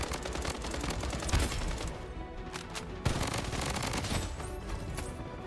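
Gunfire in the shooter video game Bloodstrike: dense, continuous bursts of automatic weapon fire crackle for several seconds, layered rounds overlapping with sharper cracks standing out, loud and close, with no talk.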